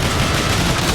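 Rapid, dense gunfire from the Transformers War for Cybertron video game, a loud continuous volley filling the whole second without pause.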